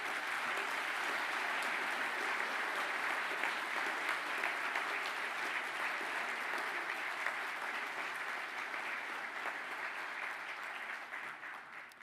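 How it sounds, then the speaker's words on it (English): A graduation ceremony audience applauds newly graduated quantity surveyors, a dense, sustained roar of clapping that holds steady for about twelve seconds before easing slightly at the close. "Can you give those budding quantity surveyors a good round of applause,"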